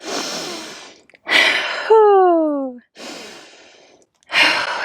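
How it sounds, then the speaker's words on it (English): Two slow, deep breaths drawn and released during a vinyasa yoga flow, soft airy inhales and exhales close by, separated by brief pauses, with a short tonal voice sound between them. "We're going to take 2 deep breaths."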